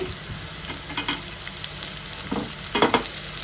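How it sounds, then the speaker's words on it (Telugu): Cubed onions frying in a pan, a continuous bright sizzle with soft stirring scrapes and a louder burst near the end, heard close with no talking. "కొంచెం లేట్గా క్యూబ్స్గా కట్ చేసుకున్న ఆనియన్స్ వేసుకోండి"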